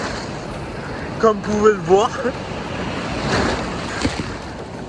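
Large ocean waves break along a Guadeloupe beach, a continuous surf wash with wind noise, and a surge building later on. A person speaks briefly over the roar early on.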